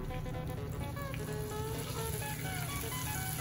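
Cauliflower pieces frying in oil give a steady, close sizzle with fine crackling throughout, an even bubbling hiss with no voices.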